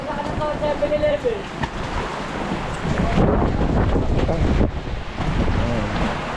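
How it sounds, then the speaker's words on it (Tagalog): Loud, gusty wind buffets the microphone, a steady roaring rush with surges, while voices talk over it. "Grabe, lakas ng hangin."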